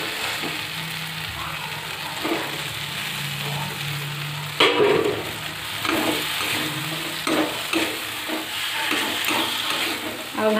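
Tomatoes frying in a pan while being stirred, with a continuous close sizzle broken by repeated scraping strokes and a sharp clatter near the middle, no talking.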